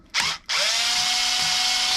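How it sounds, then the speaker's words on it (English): A cordless power drill backs screws out of a Traxxas E-Revo 2.0 RC truck: a short whirring burst, a brief pause, then a steady loud whine that carries on close up without talk. "or maybe my drill will work here."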